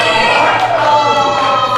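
A wrestling crowd at an RSW event reacts to TJ Phillips with a dense, close roar of shouting voices, short and continuous.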